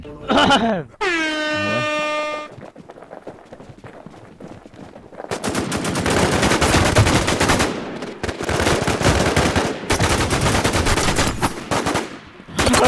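Loud automatic gunfire rattles in sustained bursts during a NewZ battle royale match on a police-themed map, preceded by a blaring horn-like tone, with near-constant shooting through the second half.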